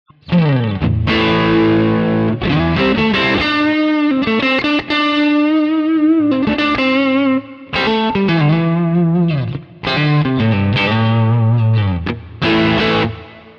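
An electric guitar played straight through a Fender-style amp and cabinets with a warm, slightly broken-up tone, strummed chords and bent single notes ringing out continuously, no voices.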